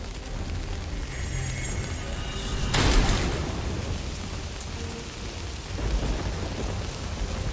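Steady rain summoned by a scroll in a fantasy hidden-object adventure game pours throughout, with a loud thunder crack near the three-second mark and a softer rumble toward the end, no voices.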